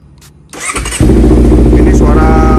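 A Honda CBR 250RR motorcycle fitted with an R9 H2 exhaust cranks briefly and then fires up, settling at once into a loud, steady idle close by.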